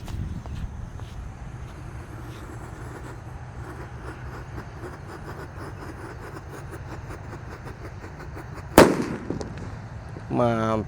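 A red Disco Happy Flower firework is lit over faint outdoor background noise. A sudden sharp bang comes near the end, followed shortly by a short burst of crackling, whistling sparks.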